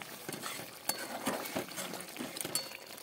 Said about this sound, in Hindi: आपण याला आता मिक्स करून घेऊ।